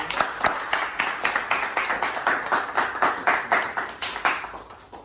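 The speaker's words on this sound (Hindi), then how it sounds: "जोरदार तालियां पारस की।" A short burst of applause, many hands clapping steadily and fairly close, with no talking over it.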